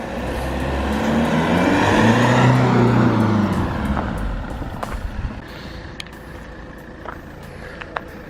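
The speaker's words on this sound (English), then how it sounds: "we're going to get the Alfa on the driveway" An Alfa Romeo car pulls slowly onto a home driveway, its engine note rising and swelling nearby, then easing off into a low idle with small clunks toward the end.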